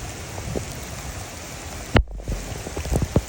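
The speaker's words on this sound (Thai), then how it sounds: "ดูฝนตกนะพี่" Steady rain falls outdoors near a stream bank, a constant wash of drops with a few sharper knocks and splashes near the end.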